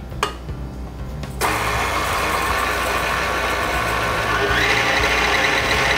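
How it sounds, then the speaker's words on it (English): A stand mixer whisks egg yolks and sugar for tiramisu, a steady motor whir that starts with a short burst, then settles into a continuous loud drone and rises slightly in pitch near the end. "We're going to whisk it together for about 2 minutes."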